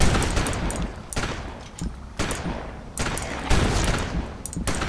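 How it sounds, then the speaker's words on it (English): Shotgun blasts from the Victor Vran video game boom out in a rapid series of about five loud, sharp shots, each with a short decaying tail, fired close up and without talk. "It really helps having this shotgun in this section right here."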